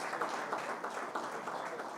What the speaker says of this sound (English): Can you give a big hand of applause for this man?